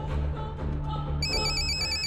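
Telephone ringing as a call is placed, a steady electronic ring tone entering partway through over a low hum, loud and close.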